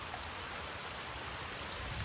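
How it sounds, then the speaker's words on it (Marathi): Steady rain pours down outdoors on farmland, a dense, even hiss of drops on surfaces running unbroken and fairly close throughout, with no voices. "पावसाचं काय करू शकत नाही पाऊस असाच चालू राहणार आहे."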